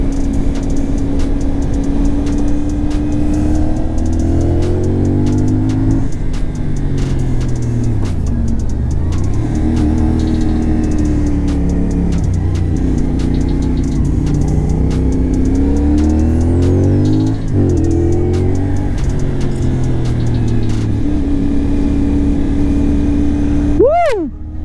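A CFMoto 450 motorcycle engine drones loudly while riding, its pitch rising and falling through gear changes and throttle, with steady wind rush throughout.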